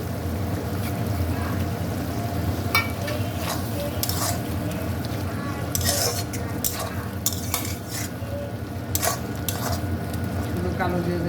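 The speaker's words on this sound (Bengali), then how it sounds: "সবারটা ভেজে দেবো।" Sapla paturi, water lily stems ground with green chili and salt and wrapped, fries in a pan with a steady sizzle while a utensil scrapes and clinks against the metal in scattered bursts.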